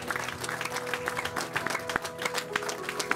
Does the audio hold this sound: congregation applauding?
yes